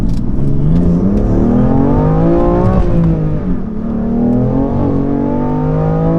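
A BMW F80 M3 engine revs hard and climbs in pitch from first through third gear, tires spinning, with brief dips at each shift, loud and close.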